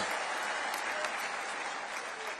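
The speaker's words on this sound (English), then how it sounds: "let's give them a round of applause," Distant crowd applause at an NBA championship parade in New York City, a continuous wash of clapping and cheering at steady, moderate level, heard alone for a brief stretch.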